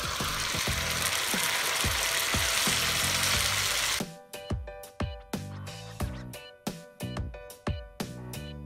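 Loud, dense hiss of oil frying in a pan suddenly drops as boiled urad dal with salt is tipped in, followed by a series of sharp spatula scrapes and stirring knocks, steady and rhythmic, with no talking.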